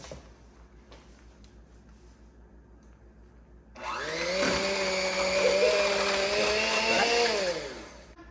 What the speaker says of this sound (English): Now we're going to put 1 egg in. And then we blend it.